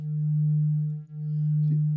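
A steady, plain tone from two synth oscillators of a ModAmp module holds at one pitch for two seconds, unfiltered and buzzy with even harmonics, dipping briefly in the middle.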